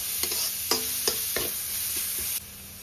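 Chopped onion fries in hot oil until golden brown for a papaya (amruta bhanda) curry, a steady close sizzle broken by a handful of sharp stirring scrapes before the hiss suddenly quiets near the end.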